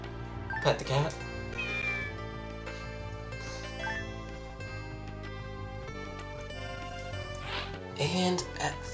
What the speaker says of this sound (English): Pet the cat.